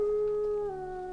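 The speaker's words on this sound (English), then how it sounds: "I want to howl at the moon." A single sustained wolf-like howl holds a steady pitch and then dips slightly lower, clear and fairly close with no speech over it.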